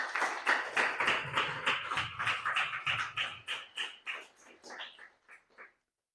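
A church congregation at a Sunday service in Barcarena, Portugal, applauds in rhythmic, closely spaced bursts of clapping that gradually grow sparser and softer before stopping into silence.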